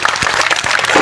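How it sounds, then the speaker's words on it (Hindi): Crowd applause at a political rally in a village, loud and close dense clapping that holds steady for the whole moment. "के लिए जोरदार तालियां होनी चाहिए।"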